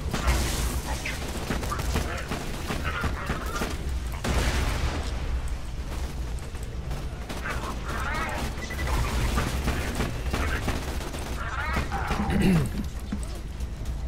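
Sustained gunfire in Borderlands 2 rattles on steadily with crashing impacts and explosions mixed in, forming a dense, loud battle din across the whole stretch.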